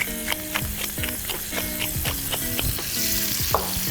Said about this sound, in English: Whisk up these eggs